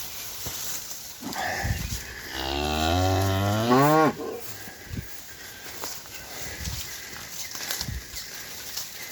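A Pharo bull lets out one long, loud, close moo among a cow and calf herd on a farm, with quieter shuffling and ambient outdoor sounds before and after.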